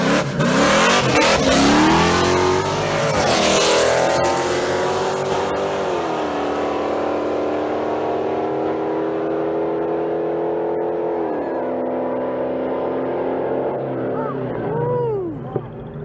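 Chrysler 300C and an F-body Camaro street racing in Mexico, engines roaring loud and close under full throttle with rising and falling revs as they accelerate through gears, voices faintly mixed in.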